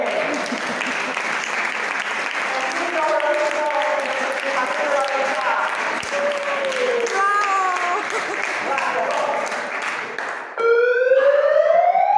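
Applause for a performer at a clown-themed education event closing ceremony, steady through most of the stretch, with whistles or siren-like tones rising over the crowd and a loud sweeping tone at the end.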